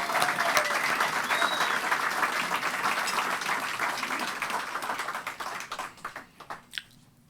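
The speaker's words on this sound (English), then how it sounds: "Let's give them a big round of applause." A hall audience at a Veterans Day fundraiser applauds World War II veterans with sustained, dense clapping that gradually thins out into scattered claps and fades.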